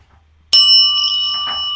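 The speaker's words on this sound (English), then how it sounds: "you will hear the dinging of a bell" A single bell is struck once during a distant Reiki healing ceremony, a bright, clear ding that rings on with a long, steady sustain after a quiet start.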